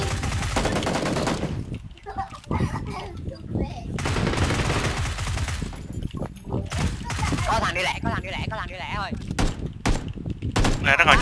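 Repeated gunfire bursts and rapid automatic shots in PLAYERUNKNOWN'S BATTLEGROUNDS, loud and near, mixed throughout with players talking excitedly over the shooting.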